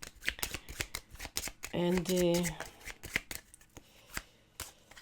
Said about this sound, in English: Then we need to shuffle these cards.